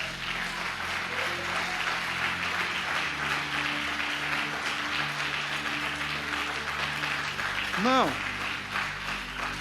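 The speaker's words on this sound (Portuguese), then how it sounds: "Você pode dar uma salva de palmas para o Senhor." Church congregation applauding at a Brazilian evangelical service, a steady wash of clapping for several seconds with a preacher's voice, tonal music and a brief sung or shouted rising phrase near the end.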